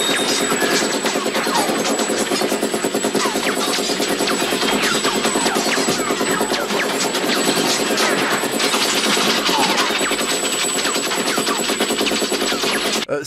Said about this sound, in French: Quand Stallone recharge un flingue dans Rambo 3 et qu'il envoie la sauce